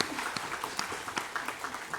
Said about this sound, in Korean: 감사의 박수를 하나님께 드리겠습니다.